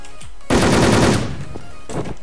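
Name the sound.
automatic gunfire in a video game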